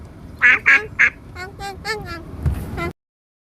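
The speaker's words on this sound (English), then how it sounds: "duck is the common name for numerous species of waterfowl in the family Anatidae" A duck quacks three loud, nasal times, then gives a quicker run of softer, lower quacks and chatter before stopping abruptly into silence.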